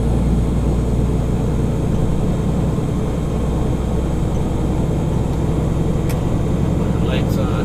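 Truck engine rumbling steadily while driving on a winding road, a loud continuous low drone close by that fills the whole stretch with no break.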